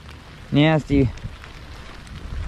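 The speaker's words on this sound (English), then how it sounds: "not have the rain actually hitting you" Steady rain from a thunderstorm patters on a surface at night in the woods, with a person briefly speaking near the start.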